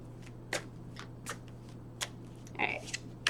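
A deck of tarot cards is shuffled by hand in short uneven bursts, soft riffling and flicking sounds close up in a quiet room with a low hum beneath.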